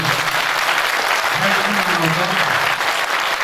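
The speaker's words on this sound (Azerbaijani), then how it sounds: "Və mən xahiş edirəm ki, əziz Qobustanlar, Sabir müəllimə layiq olan bir alqış göndərsin." Sustained applause from an audience at a meeting fills the hall evenly for a few seconds, with a voice faintly audible beneath it.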